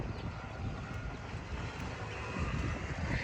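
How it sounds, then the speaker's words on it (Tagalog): Strong wind blows as a continuous, fairly loud rumbling roar with buffeting in the low range, steady across the whole short stretch, with no voices. "Lakas ng hangin."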